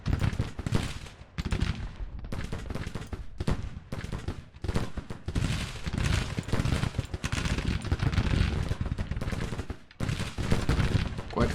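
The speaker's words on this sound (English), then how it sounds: "They are still under fire, so let's put them back." Sustained volleys of musket and rifle fire from troops under fire in a Civil War battle in Grand Tactician, loud dense crackling shots rolling continuously without pause.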